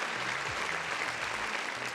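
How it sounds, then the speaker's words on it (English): Applause sound effect fills a gaming livestream segment, a thick wash of crowd clapping held at an even, loud level throughout, with a faint low voice murmuring beneath. "You know, another round of applause for the folks in the chat"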